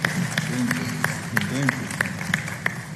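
A television studio audience claps in steady rhythmic beats to welcome a guest onto a Ramadan show, with regular even claps repeating under a voice speaking over them.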